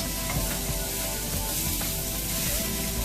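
Walnuts toast in a pan in a sailboat galley, giving a close, continuous sizzling hiss with faint scraping and no speech.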